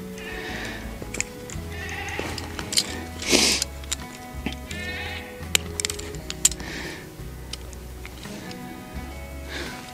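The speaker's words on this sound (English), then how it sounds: "So we got our two Nubian goats." Two year-old Nubian goats on a farm bleating several times at close range, with calls scattered through the stretch alongside snorts and rustling noises.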